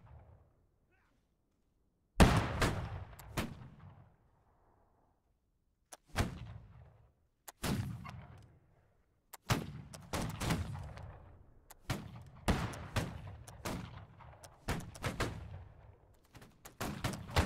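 Ragged volleys of musket fire crack out from a line of infantry in a Napoleonic-era line battle in Holdfast: Nations At War, several uneven bursts with gaps between, shots overlapping and echoing, fairly loud and close.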